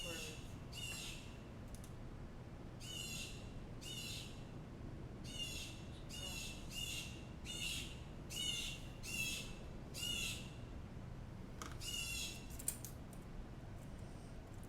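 Blue jays call outside, a series of harsh, squawking bursts repeating at irregular intervals, somewhat distant, over a steady indoor hum.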